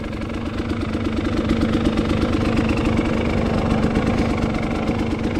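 A dirt bike with over 420 hours on it runs steadily on an icy spring trail, ridden gently; its engine holds a continuous, loud mid-pitched drone with a rapid pulsing beat and no talk over it.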